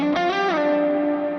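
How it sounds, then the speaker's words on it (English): Electric guitar through a Neural DSP amp capture with reverb added, a couple of bent, sliding notes that settle into a sustained distorted tone with a washy tail, loud and alone. "I literally just threw this reverb on it"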